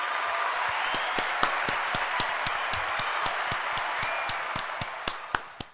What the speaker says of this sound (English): The applause was just a roaring ovation there.